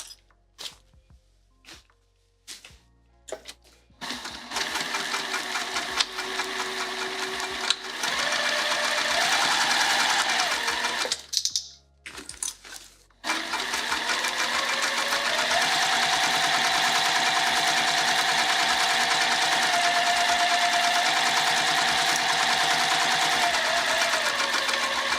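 A sewing machine stitches a quilted pattern pack piece in several bursts, its rapid, even mechanical whirring loud and close, with short pauses and faint handling clicks between runs before a long continuous stretch of sewing.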